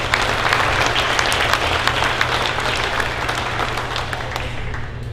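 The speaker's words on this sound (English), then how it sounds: "Give that group a round of applause." Steady audience applause at a county 4-H awards ceremony, dense continuous clapping from a large crowd that holds at an even level for the whole span without pause.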